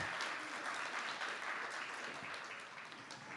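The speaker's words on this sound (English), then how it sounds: "Give it up for poet B, Maya Spoken, going straight to finals" A poetry slam audience claps at a preliminary round, a brief, steady patter of applause that stays fairly quiet and fades slightly toward the end.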